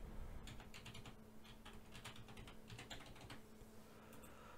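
Rapid bursts of keystrokes on a computer keyboard as a login is typed, quiet and close, in irregular clusters with no voices.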